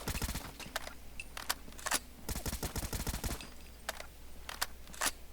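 Bursts of automatic rifle fire from a close-to-medium range weapon in Fallout 4, sharp rapid volleys in several separate strings, near and loud, with no talk over them.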